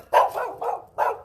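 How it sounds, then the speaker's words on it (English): Dogs bark in a quick burst of three or four overlapping woofs, close and loud against a quiet yard, with no voices. "There's 3 dogs, y'all."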